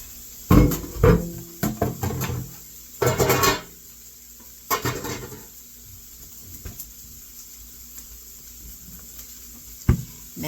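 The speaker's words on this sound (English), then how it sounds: "My onions going in." Onions tipped into a hot pan of beef stir-fry with potatoes and carrots, giving clattering pan and utensil knocks in bursts over a faint steady sizzle, then quieter frying with an occasional clink.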